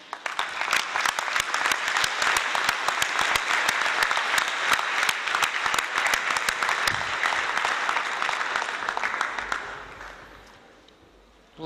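A crowd at a San Diego State University graduation ceremony applauds loudly and steadily for about ten seconds, the clapping dense and continuous before fading out near the end.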